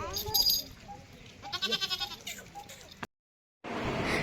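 A goat bleats a few times over a noisy outdoor background with people talking, then the sound cuts out briefly before resuming as steady noise.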